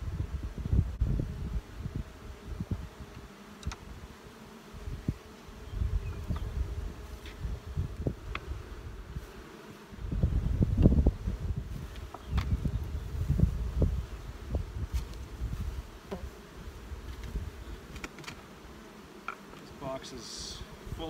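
Honey bees buzz around an open hive box heavy with nectar, a steady low hum with scattered louder passes of individual bees near the microphone, while a person speaks intermittently.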